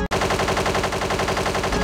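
Rapid automatic gunfire rattles steadily for nearly two seconds after a brief gap, loud and close with a mechanical, game-like crackle.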